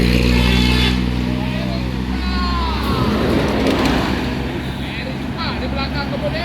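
The second ANS unit bus on a Sumatran road near Batang Pamo rolls past with a loud, continuous engine drone and gearing whine, close by, with someone talking over it.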